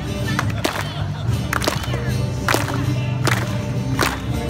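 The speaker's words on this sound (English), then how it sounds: "Clap, clap, clap, just like that." A street performer's audience claps along in a steady rhythm, sharp hand claps landing roughly every three-quarters of a second over a busy outdoor crowd.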